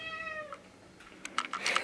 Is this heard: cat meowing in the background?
yes